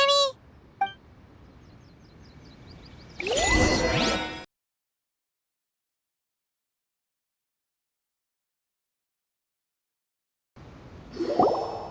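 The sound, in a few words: cleansing bell ringing in Genshin Impact video game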